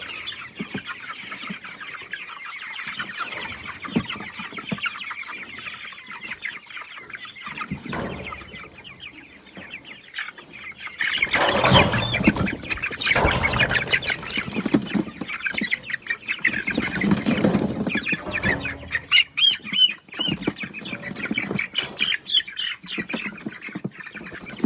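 Chickens being fed grain on fresh grass cluck and squawk, with scattered calls at first and then a louder, busier stretch of overlapping squawks close by.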